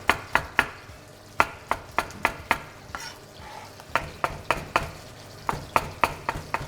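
Knife chopping tomatoes into cubes on a board, a series of sharp close taps in quick irregular runs with brief pauses, over a faint background sizzle.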